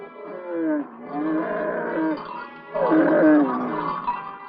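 Camel at a river crossing in a classic Western drama episode, giving loud, close, groaning bellows in two long drawn-out bursts with a short pause between them.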